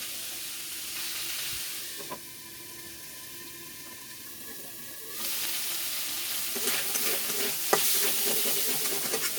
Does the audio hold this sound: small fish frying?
yes